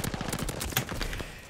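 Rapid automatic gunfire from a new weapon in a video game rattles off in fast bursts, sharp and close, then breaks off near the end without any voices.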